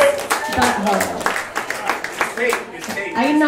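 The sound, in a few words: audience clapping for a comedian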